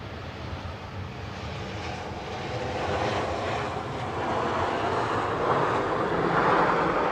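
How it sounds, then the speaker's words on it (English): EasyJet airliner from Charles de Gaulle landing at Manchester Airport, a broad steady roar of jet engines that swells gradually over several seconds, heard at a distance with no talk. "EasyJet from Charles de Gaulle has just touched down."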